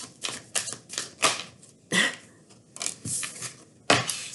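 Tarot cards being shuffled in a series of crisp, papery riffles and slaps, several separate bursts over a few seconds, close and fairly quiet with no talking.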